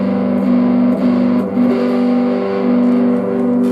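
A cheap Peavey Strat-copy electric guitar on its neck pickup, with distortion, rings out in sustained, buzzing notes that shift pitch a few times, loud and close, with no talking.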